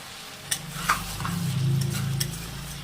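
Jackfruit sautéing in goat fat in a pan, a continuous close sizzle with a few sharp ticks of a spatula against the pan and a brief swell of stirring near the middle.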